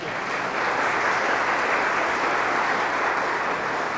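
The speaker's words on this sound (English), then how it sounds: "give them a big round of applause" An audience at a tech meetup on Raspberry Pi and Java claps steadily and loudly for four seconds, a dense, even wash of applause with no voices above it.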